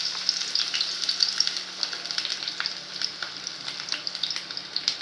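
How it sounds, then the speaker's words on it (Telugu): Onions frying in hot oil, a bright continuous sizzle with dense crackles and small pops, close and even throughout, no talking. "మళ్ళీ ఇప్పుడు నూనె కాగిందండి. ఆనియన్స్ వేస్తున్నాను."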